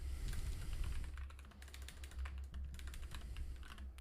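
Quick, steady typing on a new computer keyboard during a coding session, with dense, crisp key clicks close by and no talk over a low hum.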